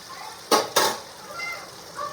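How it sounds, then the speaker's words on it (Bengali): Ingredients for palak dal fry in a pan, two sharp bursts of sizzling in quick succession followed by a quieter, uneven crackle, with no talk. "এই দেখো এটা ভাজা ভাজা হয়ে গেছে"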